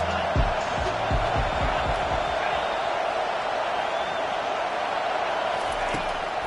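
A stadium crowd at a football game roars steadily behind the defense on a big third down, a dense, loud wash of cheering with thumps and claps near the start.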